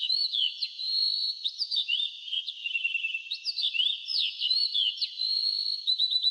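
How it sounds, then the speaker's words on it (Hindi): Birds call in a natural outdoor setting, with dense, bright chirps, whistles and trills overlapping continuously at moderate volume, several voices tweeting and warbling with no talk. "पक्षियों की आवाज"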